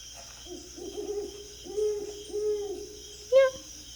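An owl hooting sound effect in a forest scene: a series of soft, low, even hoots, then one brighter, sharper call near the end, alone over faint background hiss.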